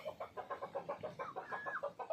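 Hens cluck in a quick, repetitive series close by in a farmyard, a busy rhythmic chatter of several birds with no voices present.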